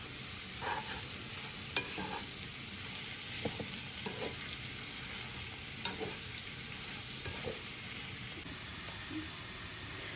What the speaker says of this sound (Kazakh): Бір саңырауқұлағымызды 15 минуттай қуырып аламыз